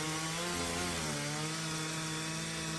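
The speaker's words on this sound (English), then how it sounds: "A chainsaw rattled in the figure's gloved hands." Chainsaw running steadily at a constant pitch, a continuous buzzing drone with dense harmonics, close and sustained, with no voices.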